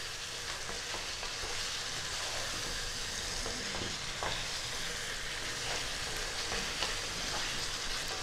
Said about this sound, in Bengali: মশলা কষতে শুরু করে দিয়েছে, দেখুন সাইড থেকে তেল ছেড়ে আসছে।